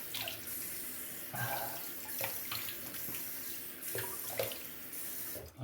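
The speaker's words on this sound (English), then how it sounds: "let's check it out with some rinse with some fresh water." Tap water runs for a rinse after shaving with a safety razor, a steady splashing flow into a sink with small shifts in splatter, close and alone with no talking.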